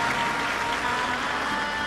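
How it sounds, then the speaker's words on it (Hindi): Audience at a Shiv Mahapuran religious discourse applauding loudly, a dense, steady wash of many hands clapping together through the whole short stretch. "एक बार सभी यजमान के लिए जोरदार ताली बजाकर स्वागत वंदन अभिनंदन।"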